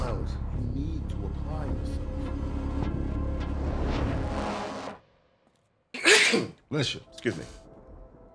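Talk over a low rumbling car interior, then after a short silence a sharp burst like a sneeze, followed by a couple of quick vocal sounds.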